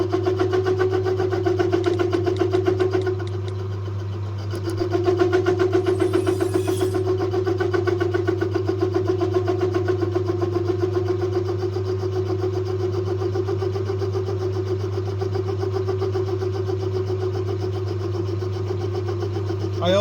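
A machine tool cuts metal for a vice anvil with a worn insert, chattering badly through a poor cut: a steady, loud mechanical whine over a strong low hum runs continuously, dipping briefly near the start.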